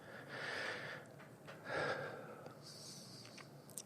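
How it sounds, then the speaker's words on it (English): Two slow, deep breaths drawn close to the microphone, each a soft, airy rush of inhaling followed by a quieter exhale, in a quiet room with no talking. "Take a nice big deep breath for me."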